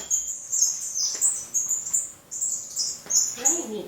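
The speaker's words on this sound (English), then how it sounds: "You sound like zebra finches." Small aviary birds chirp in quick, high-pitched bursts like zebra finches, repeating rapidly and fairly close, with faint rustling underneath.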